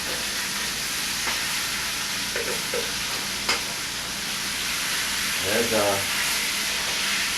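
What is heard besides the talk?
spare ribs and sausage sautéing in a pan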